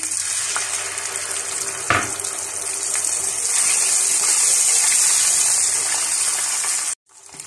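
Blended onion paste hitting hot oil in a pan while cooking achari chole, giving a steady loud sizzle and frying hiss that holds throughout, with one brief sharp clatter near the start and an abrupt stop at the end.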